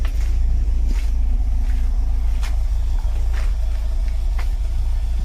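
Toyota MR2 engine idling after a cheap exhaust leak repair, a steady quiet low rumble with faint periodic ticks, continuous and even throughout with no talk.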